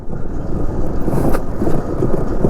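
A steady, rumbling motorbike engine drones close by on a rough road while overheating in first and second gear, with continuous low vibration and buffeting wind noise throughout.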